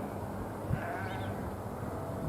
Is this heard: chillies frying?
no